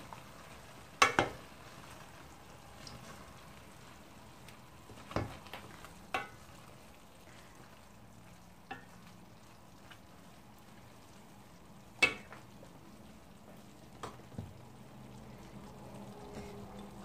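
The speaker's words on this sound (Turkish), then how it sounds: "Karıştırıyorum." Leeks stir-fried in a pan with a soft, low sizzle underneath and a handful of sharp scrapes and knocks from stirring, spaced irregularly over quiet stretches.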